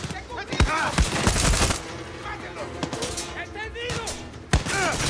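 Gunfire in Far Cry 6 rings out in sharp bursts and scattered single shots at close to medium range, mixed with other game effects and a faint voice.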